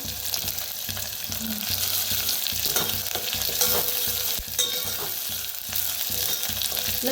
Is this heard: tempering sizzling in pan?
yes